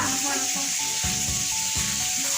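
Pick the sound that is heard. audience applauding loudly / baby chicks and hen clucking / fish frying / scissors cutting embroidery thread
fish frying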